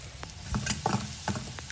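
Chili and garlic stir-fried in hot oil in a pan for a spicy minced-pork basil dish, with a steady close sizzle and a few scraping spatula strokes, no voices.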